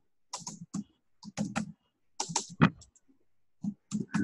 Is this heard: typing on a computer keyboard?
yes